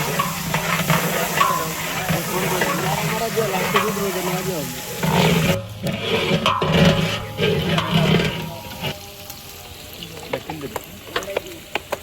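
Ginger and spices fry in hot oil in a pan, giving a steady, close sizzle with stirring scrapes, while people talk and chatter in the background.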